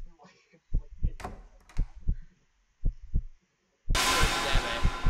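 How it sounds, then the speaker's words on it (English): A heartbeat sound effect in a late-night fright montage: deep, soft double thumps repeat in a steady rhythm, pause briefly, then return before a sudden loud burst of broad noise swamps them. "I'm hearing the heartbeat again."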